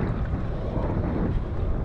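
Strong wind gusts and buffets across open water while kayak fishing, a steady loud roar of broadband rush with low rumble from the wind hitting the microphone, no voices.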